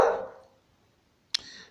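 A dog barks once loudly and close, the sharp bark fading into a short tail, then after a pause a second abrupt yelp-like bark cuts in near the end, with no talking.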